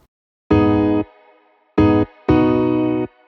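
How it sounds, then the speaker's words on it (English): A Nexus Grand Piano Soft patch plays three dry chords with no effects: a held chord, a short stab, then a longer chord, each cleanly separated by silence. "it's a Nexus piano called Nexus Grand Piano Soft"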